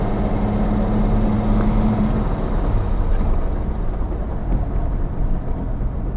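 A 1964 Jaguar E-Type Series I Coupe with a 67 gearbox is driving, its engine droning steadily and loudly from start to finish. A low tone shifts near the two-second mark, suggesting a gear change, and no one speaks.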